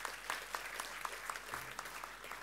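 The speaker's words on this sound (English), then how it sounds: "A round of applause." Sparse, faint clapping from a small audience at a heritage awards ceremony, with scattered individual claps standing out over quiet room noise for a couple of seconds.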